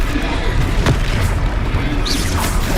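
Confringo explosive spell blast in Hogwarts Legacy, a deep booming burst over a loud, rumbling game soundscape, with a sharper pop partway through and a voice faintly heard.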